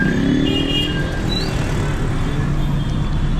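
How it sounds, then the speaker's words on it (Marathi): Dense road traffic in a jam near a busy vada pav stall, a loud, constant wash of car and motorcycle engines close by with no clear talk. "भाई ट्रॅफिक जाम गर्दी आहे डायरेक्ट."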